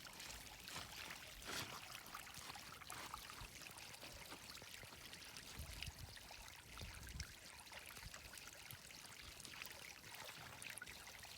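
Collected rainwater still trickles along a small channel opened by foot after the first rain, a faint, continuous outdoor stream of flowing water with gentle splashes.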